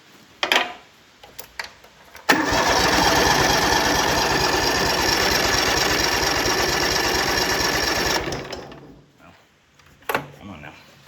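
A Kubota TG1860G lawn tractor engine, revived after three years of sitting, cranks and catches, then runs steadily at a loud, even idle for about six seconds before shutting down, with scattered clicks and handling noises before and after.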